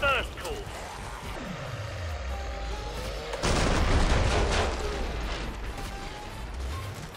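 Support-class shotgun blasts in Killing Floor 2 ring out as heavy booming shots amid dense game action, with a louder burst of firing partway through, all under a voice talking.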